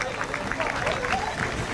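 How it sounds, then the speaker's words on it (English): A crowd at a truck show applauds and cheers steadily, a dense wash of clapping with voices mixed in. "Big cheer for him there, folks."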